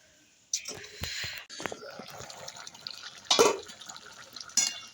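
Water is poured into a pot of winter vegetables cooking on the stove, a close splashing rush that starts abruptly and runs on with a few clanks of the pot.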